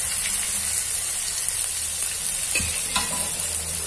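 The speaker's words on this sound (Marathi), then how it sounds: "आता आपण छान हे भाजून घेतोय" Dal spices roast in a hot pan while being stirred, making a constant loud sizzle and hiss with a couple of faint scraping touches from the spoon.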